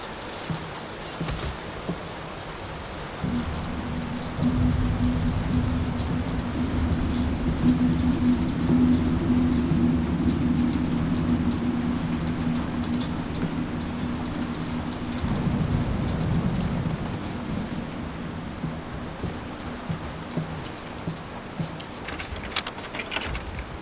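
Steady rain pours down under a low rumble of rolling thunder that swells and fades across the stretch, with occasional sharper crackles near the end, in the horror game Layers of Fear.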